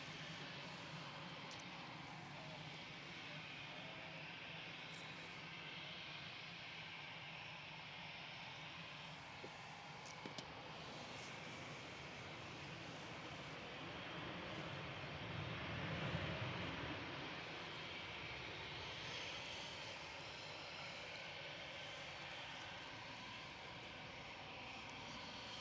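KLM Boeing 737-800 from Amsterdam landing at Manchester Airport, a faint distant jet roar that swells gently mid-way through a long steady rumble, with no voices.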